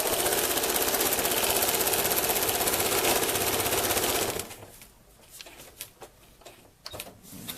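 Sewing machine stitching a 1/4 inch seam on a modern stained glass quilt block, a steady, loud, close mechanical whir for about four seconds that stops abruptly, followed by faint handling and rustling of fabric.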